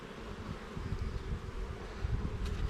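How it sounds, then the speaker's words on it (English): Honeybees humming over a solid hive frame during a queen-cell check, a steady low drone that swells slightly toward the end, close and continuous with no talk. "So you can see here, pretty solid frame of bees"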